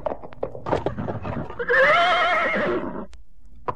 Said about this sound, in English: Galloping furiously down a path through the woods,